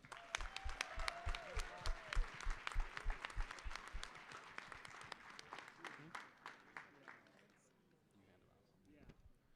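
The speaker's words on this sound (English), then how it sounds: "So let's give them a round of applause." An audience at a FIRST robotics state championship applauds students: a burst of strong distinct claps that thins out and fades toward the end, with voices underneath.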